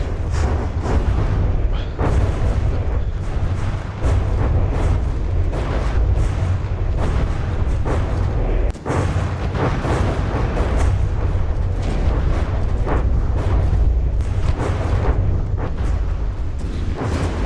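Continuous barrage of heavy booms and explosions from tanks trading fire in a video game battle, dense and loud with rapid overlapping blasts and sharp pops throughout.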